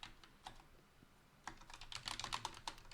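Fingers type on a ROCCAT Vulcan II Max Optical RGB gaming keyboard, quiet scattered keystrokes at first, then a quicker, denser burst of crisp clicks near the end.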